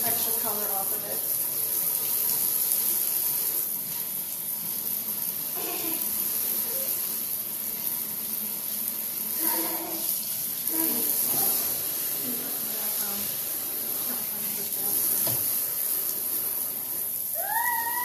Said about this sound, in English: A little bit of warm water, and I'm just going to use my magic eraser to take this extra color off of it.